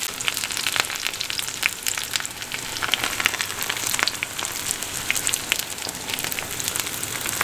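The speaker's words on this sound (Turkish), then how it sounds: "Patateslerimizin altı kızardı." Potatoes frying in a pan with beaten eggs poured over them give off a dense, steady sizzle and crackle that runs evenly throughout, close and without any talk.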